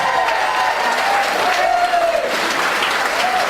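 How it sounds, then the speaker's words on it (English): A large audience at a fundraising dance show gives a loud, sustained round of applause for thirteen dance teams, with a few cheers and voices mixed in. "I think all together we should give all 13 teams a huge, huge, huge round of applause."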